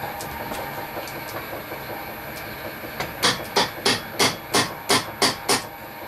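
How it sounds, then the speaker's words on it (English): Pin punch tapping an engine crank part home on a vise: a run of about nine sharp metallic taps in an even rhythm, close and clear, following quieter handling noises. "I've given that a tap just with a pin punch on the vise"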